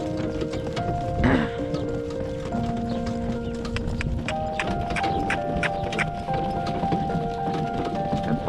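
A horse's hooves clip-clop in a steady trotting rhythm at moderate distance, mixed with faint background tones and a brief voice.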